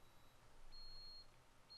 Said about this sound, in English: so you probably hear it beeping, so it's in a local alarm